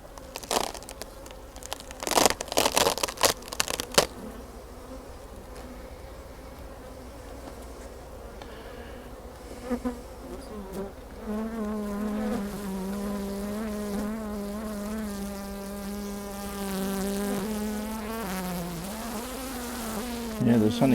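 Honeybees swarm around an open hive super at the end of a honey flow, their buzzing loud and close with drifting pitch. A few sharp knocks and scrapes of hive handling come early on, and there is no speech.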